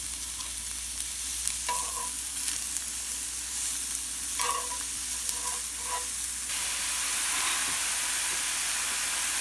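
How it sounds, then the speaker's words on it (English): Mushrooms and browning garlic fry in coconut oil, a steady bright sizzle with occasional utensil clinks and scrapes, and the sizzle swells louder near the end after fresh ingredients go in. "Got some coconut oil on there. Alright, garlic's starting to brown. Just first putting the mushrooms in."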